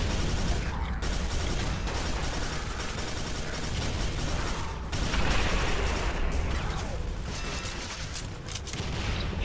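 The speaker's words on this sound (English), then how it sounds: "Chain gunner, man." Continuous heavy automatic fire from a chaingunner enemy in the shooter Quake 4, a dense, loud mechanical rattle running the whole time with occasional booms and a voice speaking over it.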